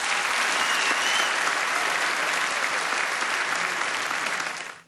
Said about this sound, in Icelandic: gefið henni gott klapp